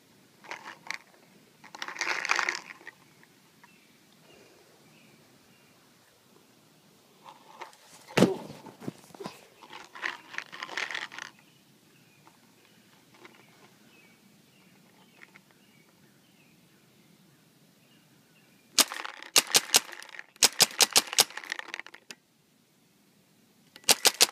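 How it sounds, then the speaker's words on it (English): A Spyder Victor paintball marker fired fast with a double trigger pops out in tight bursts of sharp shots, with quiet gaps and soft handling noise between the volleys. "Now I'm going to try to do fast shooting with the double trigger."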